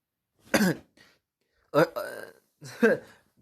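Three short, rough coughs or throat-clearing bursts, spaced about a second apart, close to the listener with quiet between them.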